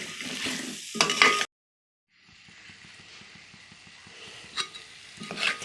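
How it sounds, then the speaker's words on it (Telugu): Sesame seeds are being stirred in hot oil in a pan for haleem. A close, crackling sizzle and scraping is cut by a brief silent gap, then resumes with a few sharper scrapes toward the end. No one speaks. "నువ్వులు వేసిన తర్వాత ఒకసారి తిప్పేసి"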